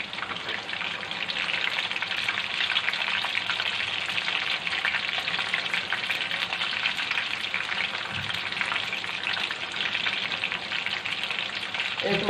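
Kofta pulao frying in oil in a pot that is lifted and shaken rather than stirred: a loud, steady, close sizzle holding constant throughout, no talk.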